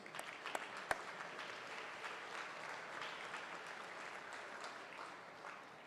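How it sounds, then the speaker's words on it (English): Applause for sponsors at a Catholic school gala, a faint, even patter of clapping from a distant audience, with one sharp louder clap standing out early on. "please join me in a round of applause for all of our sponsors"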